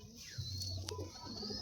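A Kalanka pigeon gives a short low coo, close and faint, with a brief sharp chirp partway through.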